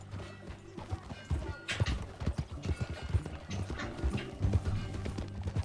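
Horse hooves clip-clop at a steady trotting rhythm in the video game Red Dead Redemption 2, the hoofbeats close and clear over a low ambient background.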